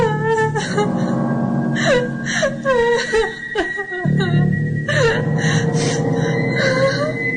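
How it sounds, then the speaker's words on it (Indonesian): A woman crying as a sound effect, with wavering, whimpering sobs and moaning rises that break into several short phrases, loud and close over a low sustained background tone. "di tengah jalan aku mendengar seperti ada suara tangisan wanita"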